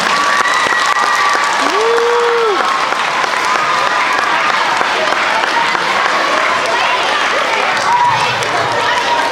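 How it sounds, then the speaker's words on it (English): An audience at an elementary school fifth-grade musical applauds the performers, loud, continuous clapping with cheering and voices from the crowd mixed throughout. "Give our fifth graders one more round of applause."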